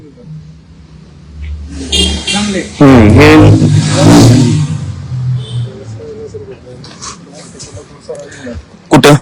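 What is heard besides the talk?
Kirloskar Min T 9 DLX power weeder engine running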